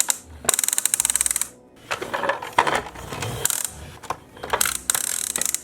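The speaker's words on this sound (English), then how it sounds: "it ratchets it up the rope" Toy Ecto-1 car's tailpipe ratchet accessory reeling in a rope: quick, close plastic clicking bursts, ratcheting in rapid runs separated by brief pauses and softer rattling handling noise.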